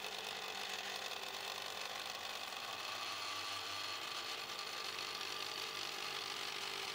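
A 3D printer with a granulate extruder prints brittle sugar, a steady, faint whirring motor hum with a high mechanical hiss that runs unchanged throughout.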